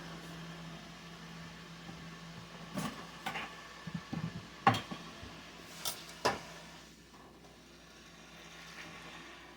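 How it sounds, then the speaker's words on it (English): A spoon stirs vegetable broth with herbs in a canning pot, giving a scattered run of soft scrapes, knocks and clinks against the pot over a quiet room hum, with no talking. "So I'm going to give this a little stir."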